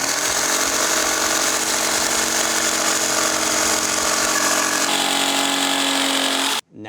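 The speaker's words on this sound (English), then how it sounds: "we're gonna improvise and use a jigsaw" A jigsaw cuts through a wooden guitar body for a Frankenstrat Stratocaster replica, a loud, steady motor buzz with rapid blade chatter running without a break for about six seconds, then stopping abruptly.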